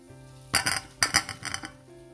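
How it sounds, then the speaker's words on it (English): Cauliflower pieces tip into a metal pan of tikka masala with a few sharp clinks and clatters in two quick bursts, close and clear against a quiet background. "Now we'll add cauliflower into this."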